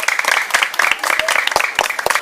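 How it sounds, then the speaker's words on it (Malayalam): A small group of onlookers claps briskly and unevenly for a child performing magic tricks, with close, sharp hand claps forming a short burst of applause. "ഒന്ന് കൈയടിക്കോ കാണുന്ന ആൾക്കാർ"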